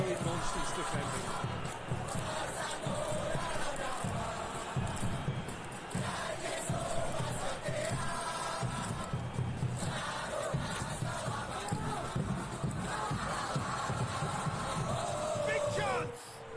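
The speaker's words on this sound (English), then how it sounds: "Well, the crowd clearly like what they just saw." Stadium crowd in the football game PES 2021, a match between Mali U-23 and Indonesia U-23, with a dense, steady roar of cheering and chanting throughout, loud and continuous, under a commentator's voice.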